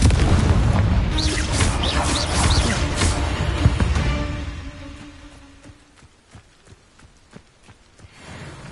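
Confringo blasting spell in the Hogwarts Legacy video game: a loud booming explosion with rumbling crackle up front, fading over a few seconds into scattered faint pops and debris.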